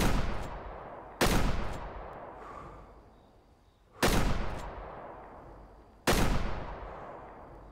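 Four loud rifle shots ring out in the hunting video game Way of the Hunter, each a sharp blast followed by a long fading echo tail, spaced a second or two apart.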